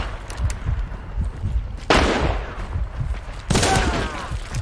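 Gunfire in a multiplayer video game: loud, sharp bursts crack out at about two and three and a half seconds over a constant low rumble of game noise, with players talking throughout.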